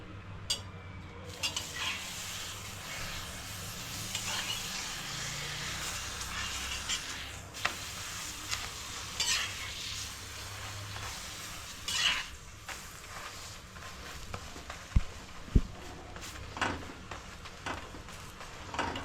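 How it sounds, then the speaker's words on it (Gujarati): A paneer paratha roasts in butter on a pan with a soft, steady sizzle, broken by occasional scrapes and clinks of a utensil against the pan; no one speaks. "તમે બટરમાં ખાતા હો તો બટર એડ કરીને એને શેકી દઈશું"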